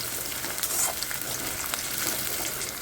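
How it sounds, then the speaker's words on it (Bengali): Onion, garlic and green chillies frying together in a pan, a steady dense sizzle with faint stirring scrapes throughout. "পেঁয়াজ, রসুন আর কাঁচা লঙ্কা একই সঙ্গে এবার আমি ভাজা করে নেব।"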